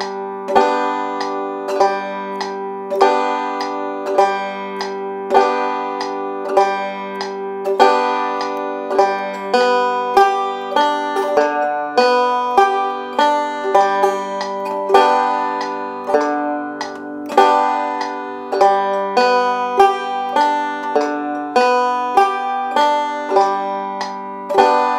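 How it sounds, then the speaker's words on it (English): A banjo plays a pinch, or boom-chuck, pattern: steady plucked notes and chord groups on a quarter-note pulse, bright and close, repeating for the whole stretch with no talk. "When we go to the pinch or the boom chuck, we're going to play one note or group of notes for two beats."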